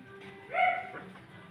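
A pet dog bitten by a snake gives a single brief, faint whimpering yelp, close by in a quiet setting.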